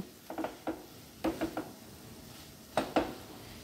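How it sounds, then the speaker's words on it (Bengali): A spoon knocks and scrapes against a pan while garam masala is mixed into chicken keema, a few quiet, irregular clinks in small clusters over a soft background. "এবার ভালো করে আমি এই মশলাটা এর সঙ্গে মিশিয়ে নেব।"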